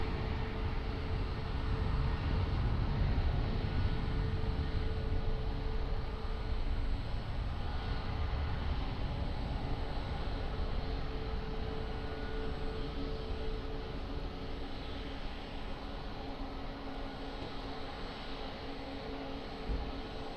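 An airliner takes off from runway 20 at Lisbon Airport, heard as a steady, fairly distant broadband engine roar that fades slightly over the stretch, with no voices.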